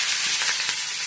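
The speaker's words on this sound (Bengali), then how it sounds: "তেলের মধ্যে 5 ফোড়ন আর শুকনো লঙ্কা দিয়েছি একটা" Panch phoron and a dried red chili sizzling in hot oil, a steady, close, bright hiss without pauses.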